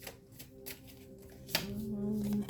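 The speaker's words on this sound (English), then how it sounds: "I'm going to put them back in the deck. And we're going to shuffle again." A tarot card deck is shuffled by hand at close range, giving soft riffling and a sharp snap of cards, with a faint low hum underneath.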